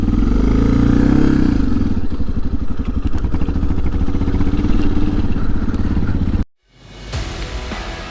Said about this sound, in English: Boy, the Suzuki got up this hill.